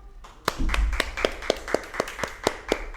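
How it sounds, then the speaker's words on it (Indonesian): Children clapping hands in a slow, even rhythm, about ten distinct claps close by, with little else in the background. "Tepuk tangan lu."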